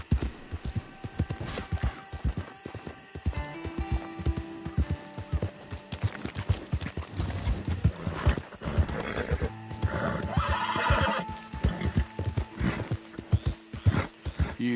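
Horse in the Red Dead Redemption 2 video game, with repeated neighs and whinnies over steady clip-clop hoofbeats at a running pace, loud and close, a game score playing underneath.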